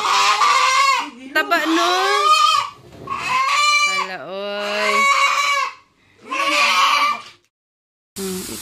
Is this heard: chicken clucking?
yes